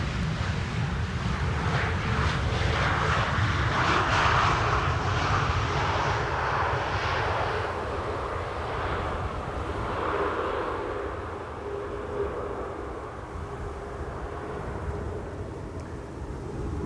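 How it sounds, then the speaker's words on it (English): A TAP Air Portugal airliner arriving from Lisbon onto Schiphol's Polderbaan runway 18R, a loud, steady jet engine roar with broad rushing noise that swells and then slowly eases as the plane passes, with no talking. "TAP Air Portugal arriving from Lisbon here next."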